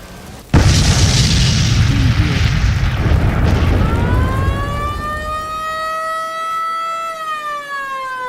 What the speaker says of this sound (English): the Mont Blanc exploded